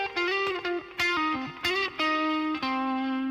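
Heavily distorted electric guitar plays a short, singing lick of bent and sustained notes with quick picked attacks, loud and continuous throughout, with no talk.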